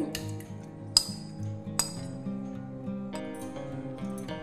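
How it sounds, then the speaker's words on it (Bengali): A tiffin box handled as marinated prawns go into it for chingri bhapa, a few faint, sparse metallic clinks and taps over a quiet tonal background with no talking. "এবার একটা টিফিন বক্স নেব আমি। টিফিন বক্সের মধ্যে ম্যারিনেট করা চিংড়িটা দেব"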